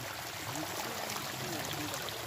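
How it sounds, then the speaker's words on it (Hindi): Clean mountain stream water flowing out from under trees on the Panwali Kantha trek: a steady, even rush of running water, close and continuous. "यहां पे आप देख सकते हैं कितना अच्छा पानी आ रहा है"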